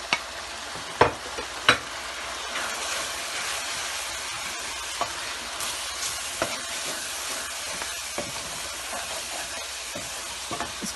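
Dry spices roasting with chicken in a dhaba-style handi chicken pan give a steady frying hiss, punctuated by sharp clacks and scrapes from stirring, several loud early and lighter ones spread through the rest.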